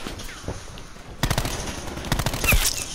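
Rapid bursts of automatic gunfire from an online shooter game crackle in quick succession, growing louder and denser toward the end, with no talking over them.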